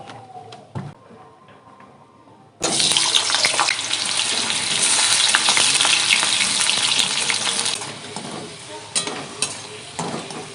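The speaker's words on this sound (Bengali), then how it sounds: "দিয়ে আলুগুলো ভেজে নেব লাল লাল করে।" Potatoes dropped into hot oil in a wok, a quiet start then a sudden loud, close sizzle that holds steady for several seconds before fading, with a few stirring knocks near the end.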